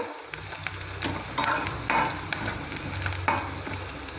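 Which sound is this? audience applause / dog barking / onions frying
onions frying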